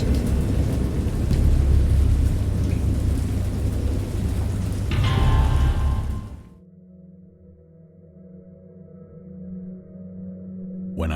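A thunderstorm with heavy, roaring rain and rolling thunder fills the first six seconds, loud and close. It then drops to a low, distant rumble with a faint steady hum.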